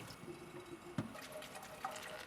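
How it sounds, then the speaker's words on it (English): Cooked bihon noodles drained in a strainer give a faint trickle of water with a couple of soft drips and a light knock, quiet and close. "I'm gonna actually, dump these in a strainer."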